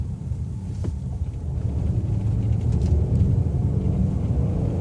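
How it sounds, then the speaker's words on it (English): A 2016 Ford Explorer's engine roars steadily while the SUV accelerates on the road, a loud, continuous low rumble heard from inside the cabin with no talking. "Nice roar from the engine, letting you know it's there."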